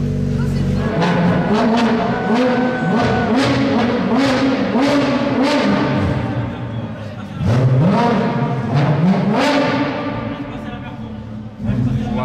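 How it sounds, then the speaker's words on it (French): A Porsche GT4 RS supercar makes a loud, close engine sound on a street amid other supercars, revving and surging with an unusual tone, while people talk over it. "J'ai jamais entendu une GT4 RS faire ce bruit de ma vie."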